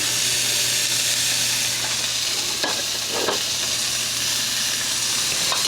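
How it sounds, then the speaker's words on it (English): Mushrooms frying in a pan for stuffed peppers give off a steady, close, even sizzle that runs throughout, with a couple of brief stirring scrapes in the middle. "I'm going to also add my mushrooms in here and let them get a little soft."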